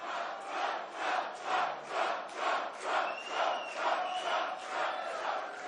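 A large rally crowd at a political speech in Suffolk County, New York chants in unison, rising and falling in about ten rhythmic swells, loud and sustained.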